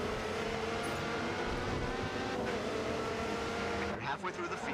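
Racing cars roar through a race in GRID 2, a Honda NSX among them, engines droning steadily with a passing whoosh near the end, while a player talks over the noise.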